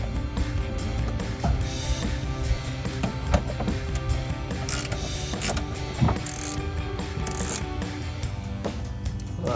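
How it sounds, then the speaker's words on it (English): A T15 Torx bit turns screws back into 2014-2015 Camaro Morimoto XB LED tail lights, with close, continuous ratcheting clicks and mechanical ticking and brief sharper knocks. "start screwing those back in"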